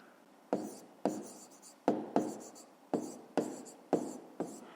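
Pen or pencil writing out a fifth-grade maths solution on paper, a quiet close series of about ten short scratchy strokes in an uneven rhythm, each starting with a sharp tap and trailing off.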